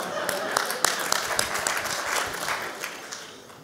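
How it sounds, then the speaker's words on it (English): Audience applause fills a leadership talk event, a dense, steady clapping that stays loud throughout and eases off slightly toward the end, with a voice speaking faintly beneath it. "Let's give him a round of applause."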